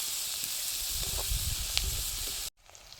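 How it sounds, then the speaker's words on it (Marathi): Curry leaves dropped into hot oil for upma, a loud bright hiss and crackle close up, running steadily before cutting off abruptly near the end. "आता वरून आपल्याला कढीपत्ता घालायचा आहे बघा कढीपत्ता टाकलाय मी"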